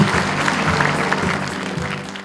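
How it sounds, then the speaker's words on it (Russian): Audience applauding teachers at a meeting with legendary biathletes in a hall, a steady sustained clapping from many hands that holds at an even level throughout. "И я предлагаю вот сейчас поаплодировать действительно всем тем, кого каждый из нас может назвать учителем"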